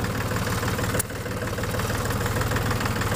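A tractor engine chugs steadily at low speed while crossing a rice paddy field, a deep, even rumble with a brief sharp click partway through and no talking.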